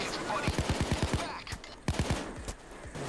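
Rapid automatic gunfire in the video game Payday 2, two quick bursts of close, punchy shots over a busy game soundscape, with players talking at moments.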